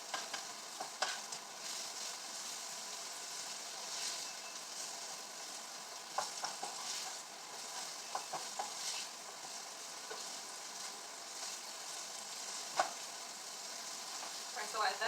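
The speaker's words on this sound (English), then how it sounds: "So I'm just getting those veggies browned." Vegetables brown in vegetable oil and lemon juice, sizzling steadily while a utensil stirs and taps the pan in scattered bursts, close and moderately quiet.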